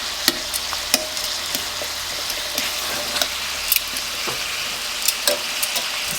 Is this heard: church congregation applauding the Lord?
no